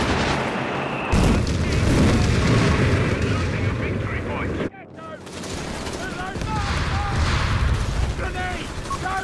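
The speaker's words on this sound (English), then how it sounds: "How do you know the building is going to collapse" A building collapses amid heavy explosions in a Company of Heroes 3 battle: dense, loud booms and rumbling gunfire roll on continuously, briefly cutting out midway before surging again, with voices talking over the din.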